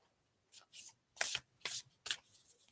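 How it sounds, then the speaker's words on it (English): A deck of oracle cards is shuffled by hand, with four or five quick riffling bursts in an irregular rhythm, close and fairly soft, and no talking. "Hang on, let me shuffle these cards for you, Shelley."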